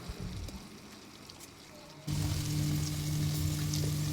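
Onions and green chillies fry in a pan for Telangana bagara rice, a soft sizzle that jumps louder and denser halfway through, then holds as a steady crackling hiss with no talk.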